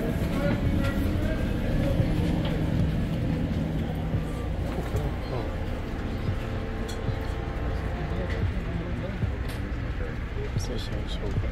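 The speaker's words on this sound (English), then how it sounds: "first time on an Amtrak traveling" Inside a moving Amtrak passenger train, a steady low rumble mixes with rattles and clicking from the carriage, and faint voices sit in the background throughout.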